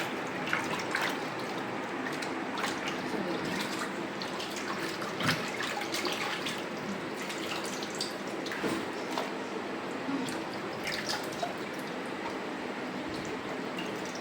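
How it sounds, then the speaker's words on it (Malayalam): Tap water running into a sink while prawns are washed by hand, a steady close splashing stream with occasional drips and squishy handling sounds, no speech. "വാട്ടർ ഓൺ ചെയ്യാം. ചെമ്മീൻ കഴുകാം."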